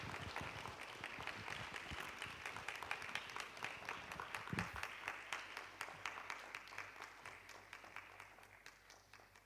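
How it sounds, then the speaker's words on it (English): A conference audience at a national cyber security awareness event applauds a speaker arriving on stage, a dense sustained round of clapping that gradually thins and softens toward the end. "I think we can give him a round of applause, even as we welcome him to the stage."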